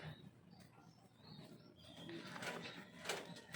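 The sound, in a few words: birds, likely pigeons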